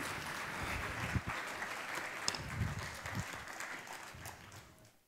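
Audience applause at a regional FameLab science communication final in Trieste, a fairly faint, distant patter of clapping with a few sharper claps that slowly tapers off toward the end.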